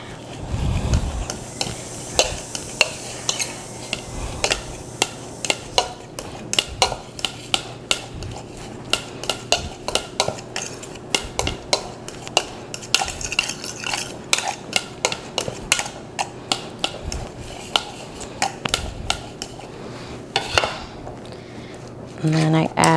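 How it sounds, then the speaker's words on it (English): A hard-boiled egg mashed into pieces in a bowl with a utensil, giving repeated close clinks and taps of metal against the bowl at an uneven rhythm, with brief pauses. "in the bowl, I have a hard-boiled egg that I just kind of mash up into pieces"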